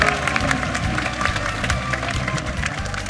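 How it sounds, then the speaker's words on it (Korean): A live Korean political talk event audience applauding and cheering for an election candidate, a loud, close crowd roar of clapping mixed with shouts and a heavy low rumble throughout. "승리를 부르는 큰 박수 부탁드립니다."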